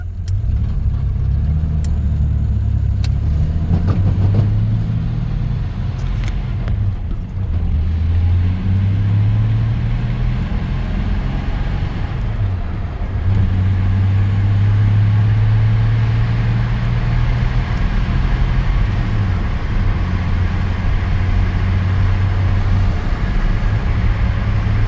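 A Chevy S10 pickup truck cruises along, its mid-pitched engine humming steadily with repeated swells as it accelerates and shifts, loud cabin road noise throughout and no talking.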